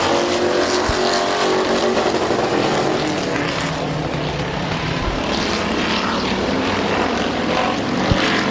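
Race cars at Midvale Speedway roar continuously around the track, a loud, steady engine drone with shifting pitch and no pause.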